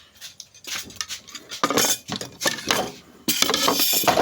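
A serving spoon clinks and scrapes as a sautéed papaya and sardine dish is served onto a plate, a series of close metallic taps and scrapes of varying loudness.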